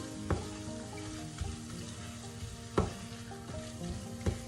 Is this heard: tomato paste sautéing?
yes